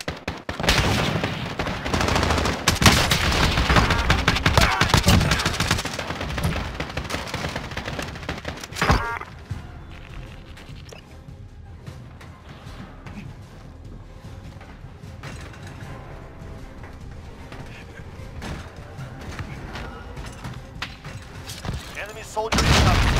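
Call of Duty Warzone gunfire crackles in loud, dense bursts for the first stretch, then thins to scattered, quieter shots and mechanical clatter. Voices speak intermittently.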